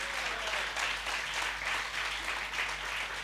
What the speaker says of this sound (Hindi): तालियां कमजोर थी साहब।